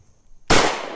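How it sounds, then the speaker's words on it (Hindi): A single sharp gunshot blast in a staged action scene, loud and close, cutting in abruptly after near silence and trailing off in a broad noisy decay. "ओके ओके फायरिंग करो"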